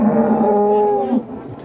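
A cow at a cattle market gives one loud, close, drawn-out moo lasting about a second, trailing into quieter market background.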